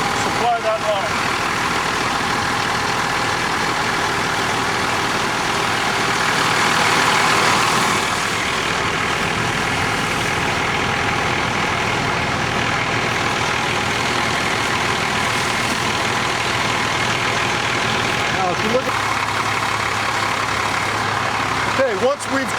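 A fire truck's engine runs steadily while its pump supplies a large diameter hose line through a four-way hydrant valve, a loud continuous rumble with hiss throughout and a brief surge partway through.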